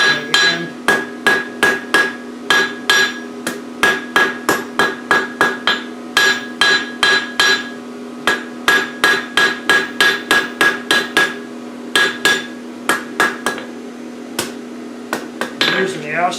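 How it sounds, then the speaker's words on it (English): Repeated ringing hammer blows drawing a metal bar to a thin point on an anvil's outside corner, struck in steady rhythmic bursts with brief pauses, close and loud, with a sustained metallic ring underneath. "my hammer then can extend beyond that corner and be able to hit down and thin that down to a point"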